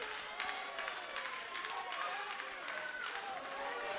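Wrestling crowd at a 1CW show in Houston, Delaware cheers and claps steadily, a dense roar of voices with bursts of applause throughout, loud and continuous.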